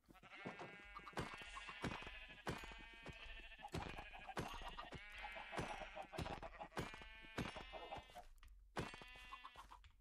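Repeated sheep bleats in a video game, loud and close, one after another with short gaps, over about ten seconds with no talking.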